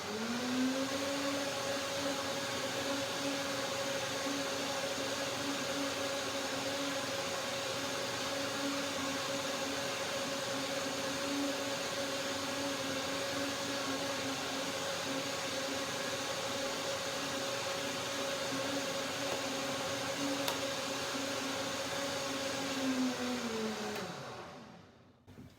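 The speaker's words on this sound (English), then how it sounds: "Blender dance one more time." A blender whirs steadily through a goji orange cashew dressing, a high, even motor whine held for over twenty seconds, close and alone, then winding down abruptly at the end.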